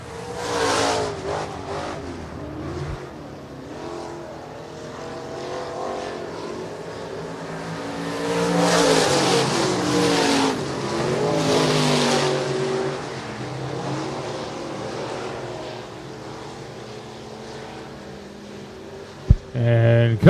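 IMCA stock cars race at Shelby County Speedway, a sustained roar of engines rising and falling as cars pass, with an announcer talking over the noise throughout and a brief thump near the end.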